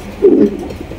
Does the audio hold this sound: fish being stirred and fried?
no